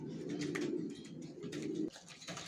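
Racer pigeons coo in a low, throaty rolling rhythm, two or three close phrases with light background rustle, fairly faint and without speech.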